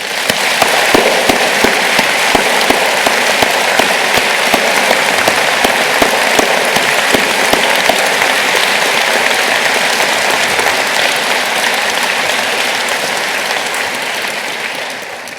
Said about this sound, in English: they deserve a warm round of applause